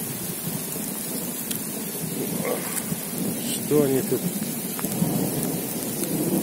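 A thunderstorm with heavy rain after hail over a dacha garden in May, steady rain pouring onto surfaces with rumbles of thunder, while a person speaks briefly partway through.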